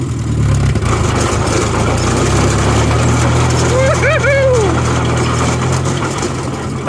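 A John Deere 1010 crawler bulldozer engine runs steadily and loudly close by, a constant low droning rumble, with a brief voiced sound partway through.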